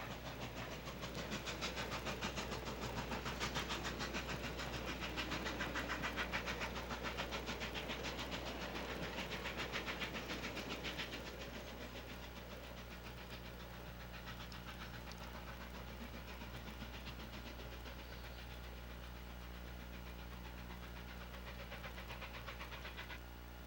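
A passenger train locomotive working hard as it accelerates up a grade, a loud steady engine roar with rail clatter that eases slightly after the first ten seconds and continues as a sustained rumble throughout.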